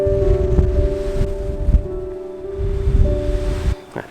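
Strong wind gusts roar across an exposed hilltop by the Don Quijote windmills, a steady loud low rumble with buffeting peaks that drops away sharply near the end.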